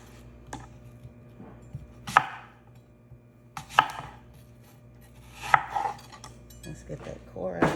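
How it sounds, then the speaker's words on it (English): A knife cuts through apples on a board, the sharp chops landing in a loose, irregular rhythm about every second or two, close and clear against a quiet kitchen background. "I'm just gonna cut these into some thin slices."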